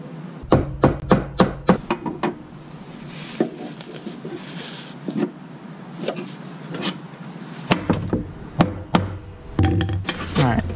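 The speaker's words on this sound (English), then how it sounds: "So we got this Woodruff key right there. Let's pound it down." Sharp metallic hammer blows driving a Woodruff key onto the blade shaft of a Honda lawnmower, quick bursts of several strikes with pauses between them, close and loud, with quieter handling noises in the gaps.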